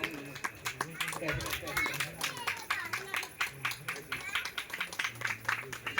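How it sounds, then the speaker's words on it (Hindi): At a community and party gathering, an audience claps for a local figure, a choppy stretch of uneven hand claps heard with voices talking over it and some low background hum. "भाई एक बार राज भाई के लिए भी तालियां बजा दो आप"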